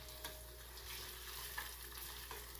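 Onion rings frying in hot oil, pushed down and stirred with a spoon, giving a steady, close, faint sizzle with light scraping touches and no talking.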